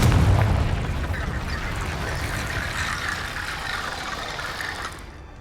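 A Confringo explosive spell blast from Hogwarts Legacy: a loud low boom at the onset that falls into a sustained crackling, rumbling roar and slowly fades away, with no voices.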